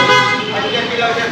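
Stock horn of a Honda ADV 160 scooter giving one steady, sustained honk that runs through the whole moment, close and loud, with voices nearby.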